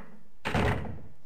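A boat's door opens in the Silent Hill video game with a single dull, heavy thunk lasting about half a second, fairly loud against a quiet ambient background.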